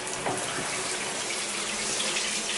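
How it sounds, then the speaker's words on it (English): Hot water runs steadily from a shower faucet mounted about six feet four inches up, a continuous hiss of spray falling and draining at strong pressure, close and alone with no talking. "I'm just going to turn on the hot water"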